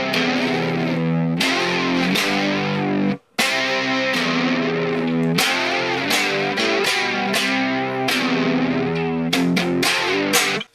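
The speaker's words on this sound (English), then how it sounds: "the second guitar that has an overdrive or a distortion sound" Electric guitar with overdrive distortion plays the chorus of a song, loud sustained chords in a rhythmic pattern with one brief pause, heard alone without talk.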